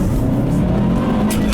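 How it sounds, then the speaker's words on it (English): A 2013 Subaru WRX STI 5-door with a turbocharged engine pulls hard along a back road, giving a steady, loud, close engine drone heard from inside the car with no talk. "once that turbo kicks in, it just takes off"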